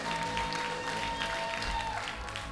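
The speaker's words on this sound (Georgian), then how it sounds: "აპლოდისმენტების თანხლებით გავაცილოთ" Audience applause fills the hall at a live Georgian concert and competition show, a dense, sustained wash of clapping from a large crowd, moderately loud and steady throughout, with no speech over it.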